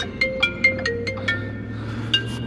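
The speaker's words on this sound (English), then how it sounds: "got a phone call, be back." A phone plays an electronic ringtone for an incoming call, a quick series of bright, plucky beeps in a bouncy melody, fairly close over a low steady background hum.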